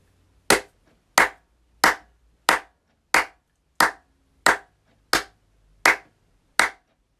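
Ten sharp, evenly spaced hand claps ring out alone in a quiet indoor room, each a crisp close single clap with a short tail, about two-thirds of a second apart.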